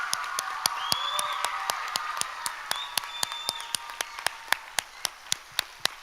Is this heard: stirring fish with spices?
no